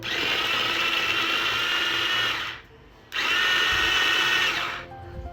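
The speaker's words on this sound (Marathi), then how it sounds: "तसंच मी कांदा देखील बारीक करून घेतो" Two loud bursts of a whirring electric chopper motor mincing onions, separated by a brief gap, with a faint rattle at the end.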